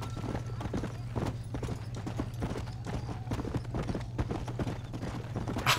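Horse hooves clip-clop in the video game Red Dead, a steady, close trotting rhythm over a low continuous hum, with a faint brief whinny near the end.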